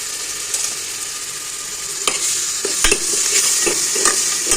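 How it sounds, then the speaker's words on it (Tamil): Ground ginger, garlic, onion and tomato masala paste frying in a ladle of oil for tomato rice, with steady sizzling and intermittent stirring scrapes of a spoon in the pan, close and moderately loud, no talk. "இது ஒரு குழிக்கரண்டி எண்ணெய் விட்டுருக்கேன், அதில் போட்டு வதக்கிக்கலாம் நல்லா."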